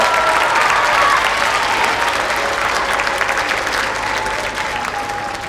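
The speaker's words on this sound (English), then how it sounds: "Let's give all of our family and friends a round of applause." Audience at a school spring concert applauding together, a dense, steady wash of clapping that fades slightly toward the end.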